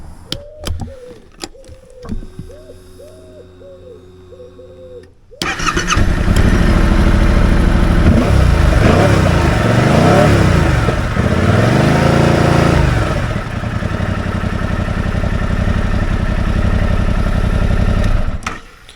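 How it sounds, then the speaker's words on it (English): A Yamaha XSR700 motorcycle engine starts after a few beeps and clicks, then idles loudly and revs up and down repeatedly, close by, before cutting off. "It just sounds like a modern Japanese motorcycle."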